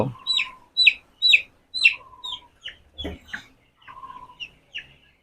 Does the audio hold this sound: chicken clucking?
yes